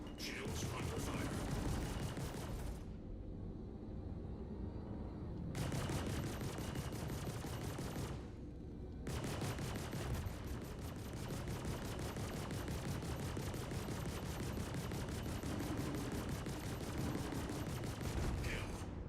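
Heavy weapon fire pounding a ship's shields in a space combat game, dense rapid bursts of blasts and impacts with two brief lulls, loud and sustained throughout.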